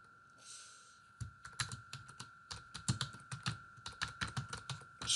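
Rapid, uneven keystrokes on a computer keyboard while entering survey answers into a database, close and clear with no talking, over a faint steady hum.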